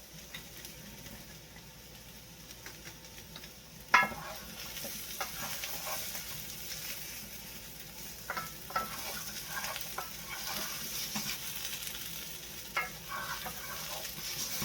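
Onions frying and browning in a pan for Mexican chicken, a continuous soft sizzle with intermittent scraping stirs and one sharp knock early on, close and fairly quiet with no voice.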